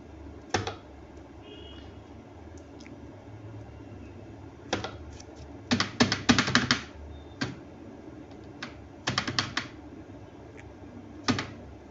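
Computer keyboard keys struck while typing text into a Microsoft Word document, heard as scattered single clicks and short fast bursts of keystrokes separated by pauses, fairly close over a quiet room hum.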